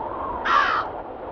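One harsh crow caw from the game Root Of Evil: The Tailor, a single short rasping call over a steady low background hum, with no talk.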